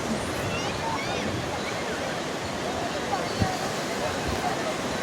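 Sea waves wash up on a Konkan beach in the morning, a continuous broad roar of surf close by that stays steady throughout.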